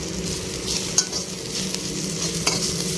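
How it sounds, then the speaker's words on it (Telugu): Drumstick leaves frying in a pan, a close, steady sizzle with crisp scraping stirs and a couple of sharper knocks against the pan. "మునగాకు కూడా మంచిగా ఫ్రై అయిపోయింది"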